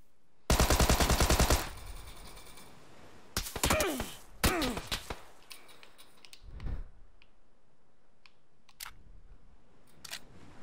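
Gunfire in PUBG: a sustained burst of rapid automatic shots up close, followed by several shorter bursts and scattered distant single shots, with quiet ambience in between.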